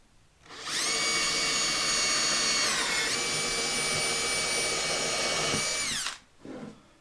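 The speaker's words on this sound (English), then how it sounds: "what we're going to do is drill from underneath and put some screws in here" A power drill boring pilot holes for screws from underneath, used while building a TIG filler rod holder in a workshop; one sustained loud whine lasting about five seconds, dipping in pitch midway, then spinning down.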